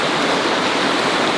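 A river in spring flood in Järvsö, Sweden, rushes with a loud, steady roar of churning water, close and unbroken, without any talking.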